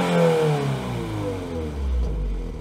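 A Subaru WRX with a 2-liter boxster four-cylinder and quad exhaust revs up close and loud, its engine note falling and then swelling again in a throaty low rumble, with no talking.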